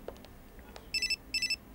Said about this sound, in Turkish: Telefon çalıyor, duymuyor musun?